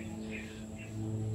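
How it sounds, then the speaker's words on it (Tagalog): A lovebird and other birds chirp faintly outdoors, a few thin tweets rising over a low, steady hum in the background. "Nag-iingay siya, so mga nag-iingay din yung ibon dito."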